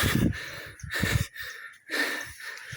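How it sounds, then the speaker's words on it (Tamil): Heavy, labored breathing of a person out of breath after climbing up to a hilltop temple, several audible breaths with sighing exhales and short gaps between them, fairly close. "மூச்சு வாங்குது."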